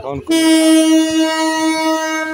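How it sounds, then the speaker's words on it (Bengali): At a railway station in Cumilla, a train horn sounds as one loud, steady, sustained blast after a brief moment of other sound, holding for about two seconds. "এটা হলো কুমিল্লা রেল স্টেশন"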